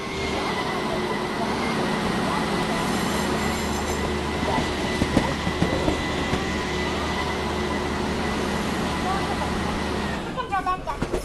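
In a video game, a Vande Bharat Express train rumbles steadily into platform 6, a low continuous drone with occasional metallic clanks, while a public announcement voice speaks over it.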